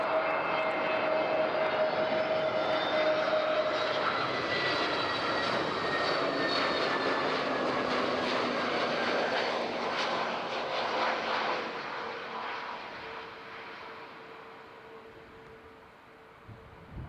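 A passenger airplane lands on runway 14 at Zurich airport, its engines roaring loud and steady with a whining tone that slowly fades as the aircraft passes and rolls away.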